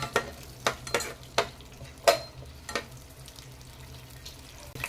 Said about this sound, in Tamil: வெங்காயம் கொஞ்சம் வேகிற வரைக்கும் நல்லா வதக்கிடுங்க.